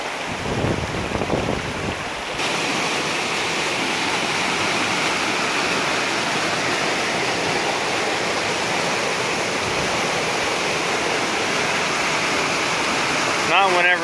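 Loud, continuous roar of rushing water, close and unbroken, with a brief voice at the start.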